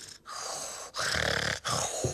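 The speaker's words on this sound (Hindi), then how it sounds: "ये तो खर्राटों की आवाज है।" Loud, raspy snoring breaths repeat in long rattling pulses separated by brief pauses, close and with no talking.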